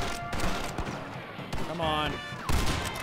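Bolt-action rifle gunfire in the Red Dead Redemption video game, a few sharp shots scattered amid busy game sounds, with someone talking over them.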